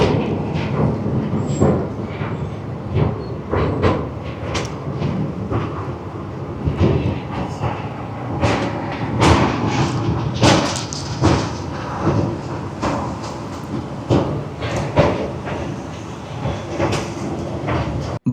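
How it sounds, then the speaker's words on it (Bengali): A train runs through the 11.2 km Pir Panjal rail tunnel between Banihal and Qazigund in Kashmir, heard as loud, rhythmic wheel clatter and rattling carriage noise with no talking. "বানিহাল আর কাজিগুন্ডের মাঝেই আমাদের ট্রেন পার করলো এই যাত্রাপথে ভারতবর্ষের দ্বিতীয় দীর্ঘতম রেল টানেল"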